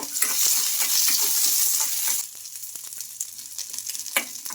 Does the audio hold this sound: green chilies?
yes